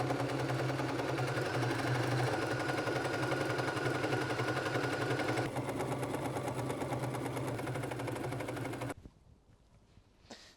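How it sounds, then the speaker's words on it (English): A sewing machine runs steadily to sew the side seams of a men's yukata, with a close, continuous mechanical hum and rapid needle clatter for about nine seconds before it stops and only faint handling remains. "I'm going to sew the side seams."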